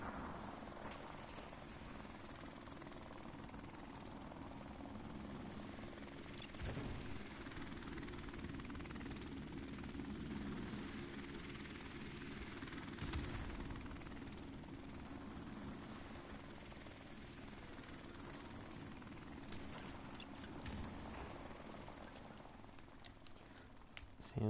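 A helicopter killstreak in the video game Call of Duty 4 gives a steady, droning rotor and engine roar that lasts throughout, with occasional faint game effects layered over it.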